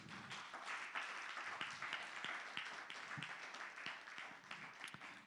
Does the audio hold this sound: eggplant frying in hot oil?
no